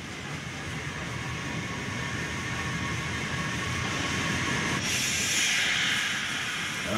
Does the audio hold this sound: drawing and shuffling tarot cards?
no